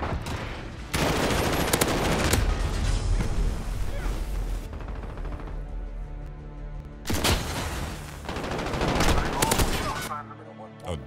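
Gunfire in Call of Duty: Modern Warfare comes as dense, loud bursts of rapid automatic shots mixed with booms, then a short lull before another heavy volley close up.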